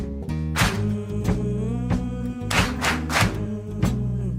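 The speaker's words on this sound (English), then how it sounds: "It goes, clap, clap, clap, clap." Loud rhythmic claps from an audience clapping along in time, spaced beats over sustained music-like tones on a Filipino community radio-style show.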